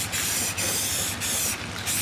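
An aerosol can sprays satin black paint onto a trailer in several steady hissing bursts, each broken by a short pause. The can is close and fairly loud, with no talk.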